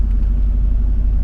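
A car's engine rumbles low and steady while backing up a narrow driveway, a close, continuous drone with no talking.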